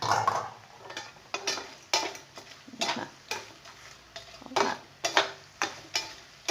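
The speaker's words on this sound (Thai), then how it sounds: "ถ้ามันหอมแล้วนะคะ เราก็ผัดนะคะ" Spicy catfish stir-fried in a pan, with a spatula scraping and stirring in steady rhythmic strokes over a continuous sizzle, close and fairly loud, with no talking.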